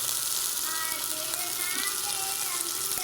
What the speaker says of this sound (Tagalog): Ang bango ng sibuyas at bawang talaga pag ginigisa.